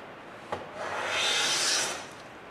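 A hand plane takes a single pass along a wooden board, a sharp tap followed by a smooth rising-and-falling shaving hiss lasting about a second and a half.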